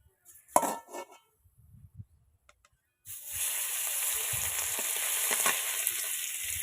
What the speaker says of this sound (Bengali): কড়াই গরম হয়ে গেছে এবার মাছের পিসগুলো এখন একে একে দিয়ে দেবো